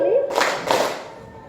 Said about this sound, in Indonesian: Tepuk siang kita tepuk 2 kali.